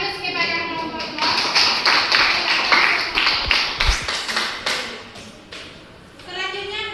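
Classroom applause for a presenting student group: a burst of light, scattered hand clapping from a room of students, close and lively. It fades out after a few seconds, with a voice heard at the start and end.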